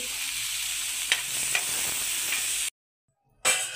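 Steady sizzling of chillies frying in a pan for chilli powder, with a few soft scraping stirs, then a brief silence before the sizzle returns.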